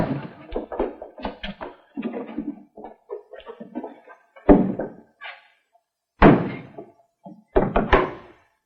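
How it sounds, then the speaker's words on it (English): A wooden door in an old radio drama is handled roughly, with a run of knocks, bumps and thuds, then heavier slams and closing thunks spaced out over several seconds. "Open the door, Red"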